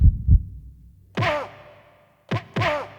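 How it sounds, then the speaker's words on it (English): A single heartbeat of two low, soft thumps in quick succession, followed by louder descending tonal sounds. "Little heartbeat."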